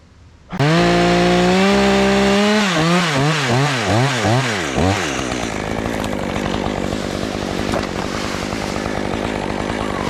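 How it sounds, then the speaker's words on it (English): A chainsaw roars to life and revs up and down loudly, then settles into a steady, close, gritty whine as it bites through a tree limb. "I cut that limb right off"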